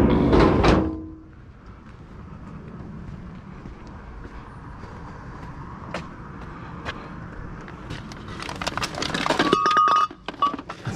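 Glass items clinking and knocking against each other in a dumpster during curbside scavenging, with a sharp cluster of clinks at the start and more scattered knocks and rattles near the end.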